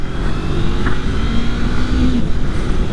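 A 2024 Honda CB500 Hornet motorcycle accelerates hard, its engine note rising steadily in pitch, loud and close with wind rush throughout.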